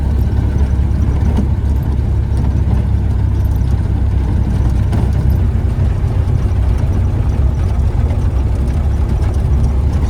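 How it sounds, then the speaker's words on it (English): A Model A pickup truck engine chugging steadily while driving down the road in third gear, a loud, continuous low rumble with even, unbroken droning and no talk. "Engine just chugs on down the road."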